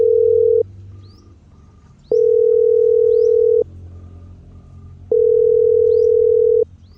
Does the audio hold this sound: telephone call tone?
yes